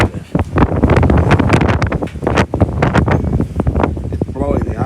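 Strong gusty wind outdoors in Martinez, California rushes and buffets the microphone in loud, irregular bursts that swell and drop throughout.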